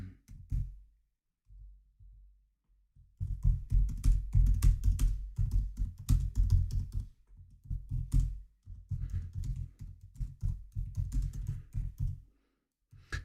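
Typing on a computer keyboard at a desk crowded with large monitors and cameras: a steady run of close, quick key taps with short pauses, loud and alone.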